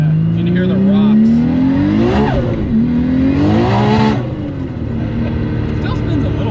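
Twin turbo Nissan 370Z making roughly 870 horsepower launching hard, loud engine rising in pitch through the gears, with rocks kicking up and rattling under the spinning tires, heard from inside with voices talking.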